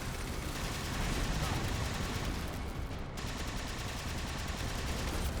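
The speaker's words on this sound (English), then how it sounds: "Just keep shooting." Continuous, dense gunfire in Halo 4 Spartan Ops on the Lancer mission at Legendary difficulty, loud overlapping shots and bursts filling the scene without a break.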